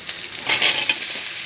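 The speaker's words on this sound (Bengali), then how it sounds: "ক্যাপসিকাম দিয়ে একটু নেড়ে চেড়ে আমি দিয়ে দেব আলু আর" Capsicum frying in a pan, with a steady close sizzle and a couple of brief scraping stirs, short and without talk.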